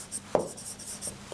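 Chalk or pen writing on a classroom board during a geography lesson, heard as a few short, close scratchy strokes with a sharper tap near the start.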